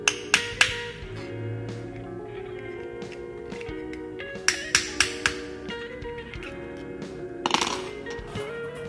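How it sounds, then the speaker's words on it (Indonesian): A 9-watt LED lamp housing gets tapped from behind to pry it open, producing sharp clinking knocks in small clusters over a steady low hum. "Kita ketok dari belakang untuk membuka."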